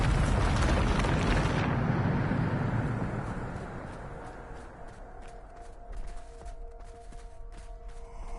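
A Bombarda explosion spell in the video game Hogwarts Legacy: a loud, roaring blast that rumbles for several seconds, then fades into crackling debris and a low magical hum.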